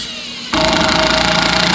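A Metabo HPT triple hammer starts abruptly after a quiet moment and runs at high speed, a dense, loud rapid-fire hammering buzz close to the microphone.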